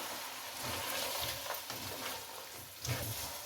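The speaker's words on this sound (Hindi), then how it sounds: "अब इन सारी सब्जियों को इसमें भून लें मसाले में।" Mixed vegetables sizzle as they fry in a spice masala with coriander powder and chicken cube for vegetable pulao, a steady close hiss broken by soft stirring scrapes.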